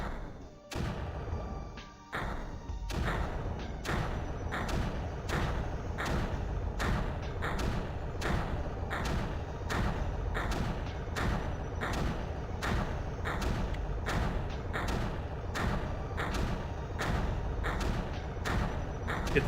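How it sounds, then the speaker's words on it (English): Mortars in the strategy game Creeper World AE fire steadily, a rapid train of dull, evenly spaced thumps that runs nearly nonstop for close to twenty seconds over a dense, busy game soundscape. "Okay, mortars are up."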